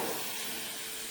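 A pressure washer sprays water to clean mold off a 1994 GMC Stepside pickup truck: a steady, fairly faint broadband hiss with no voices.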